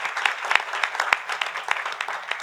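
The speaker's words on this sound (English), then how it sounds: "Let's give them a round of applause" An audience applauds panelists after a discussion on NCAA transfer rules, a steady, moderately close round of clapping with no voices over it.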